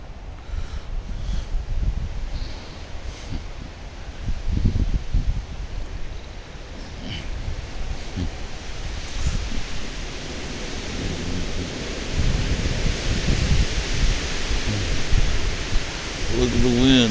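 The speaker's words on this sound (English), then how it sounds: "Look at the wind." Wind gusts outdoors around an apartment complex, a steady broadband rush buffeting the microphone with rustling, while voices talk faintly in the background.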